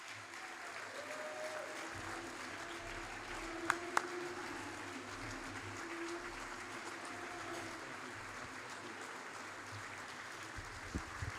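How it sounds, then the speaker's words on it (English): Faint, distant-sounding applause from an evening audience welcoming two guests to the stage, a steady soft patter of clapping lasting several seconds with a couple of brief sharp knocks. "we would like to welcome tonight to the stage Father Dave Nix and Will Goodman. Give a round of applause"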